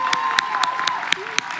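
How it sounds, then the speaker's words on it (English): A crowd at a high school graduation ceremony applauds in a steady wash, with a few loud, distinct claps standing out and faint cheering and a sustained tone underneath. "let's give it a round of applause one more time"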